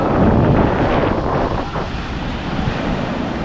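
Strong ocean waves crash and surge loudly and continuously at close range, with heavy wind buffeting the microphone throughout.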